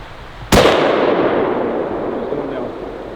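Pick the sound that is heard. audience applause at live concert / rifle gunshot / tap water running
rifle gunshot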